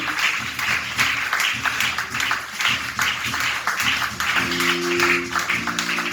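A congregation claps in steady rhythm during a prayer service, with repeated bright, even bursts of hand claps continuing over a low hum of musical tones.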